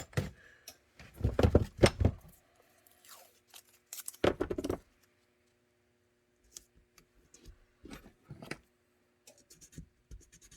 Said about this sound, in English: what we'll do is just tape it down